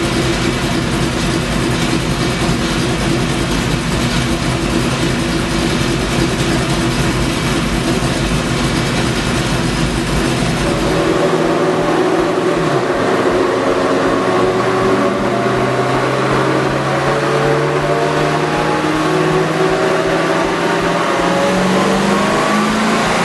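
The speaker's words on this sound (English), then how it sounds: "check out the car's new sound all the way through the RPM range" A 2006 Ford Mustang GT V8 with a Thumpr cam roars steadily at high revs on a dyno for several seconds, then drops in pitch and winds down with a deep rumble, loud and close.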